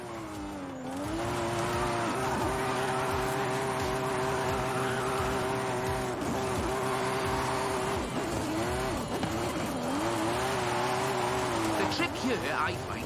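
Engine drone of a car drifting in the video game Forza Horizon 5, a steady sustained roar with pitch swells as the throttle shifts, under continuous talk.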